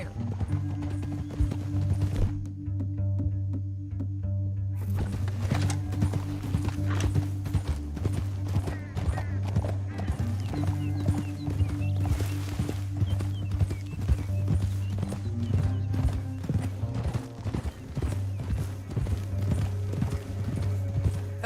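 Horses gallop in Red Dead Redemption 2, their hoofbeats forming a dense, steady clip-clop over a sustained low musical hum, with a short quieter stretch near the start.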